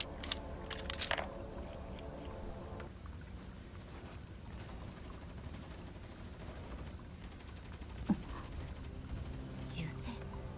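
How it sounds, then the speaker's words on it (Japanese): Distant gunfire in the video game Girls' Frontline 2: Exilium, heard as scattered bursts and rapid machine-gun-like rattles under a low rumbling backdrop, with a sharp crack standing out near the end. "銃声。"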